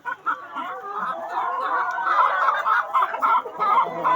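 A flock of hens in a backyard coop clucks steadily and busily, a continuous overlapping chatter close to the listener with a few sharper calls.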